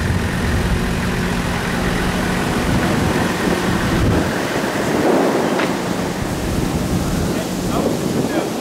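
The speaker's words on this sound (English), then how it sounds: "And if you can hear the wind, just imagine how we're feeling the wind." Wind rushing past while riding in a Toyota Coaster bus in Dakar, Senegal, a constant loud roar of buffeting air over the engine's drone, with a voice talking through it.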